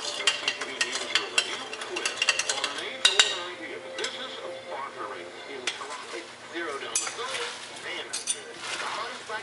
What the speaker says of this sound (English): Just going to stir this up a little bit.